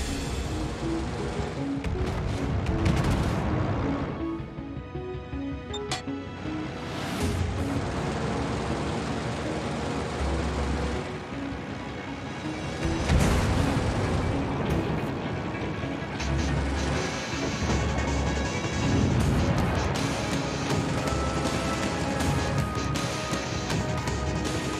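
Naval gunfire and explosions in a battle from the game Langley: Kraken Unleashed, with repeated booming blasts and dense rumbling bursts rising and falling over a steady churning background across the whole stretch.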